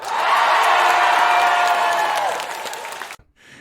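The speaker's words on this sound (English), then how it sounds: "I had a hand clap for that." A group breaks into loud, dense applause with some whoops and cheers, holding steady before tapering off abruptly into a brief quiet.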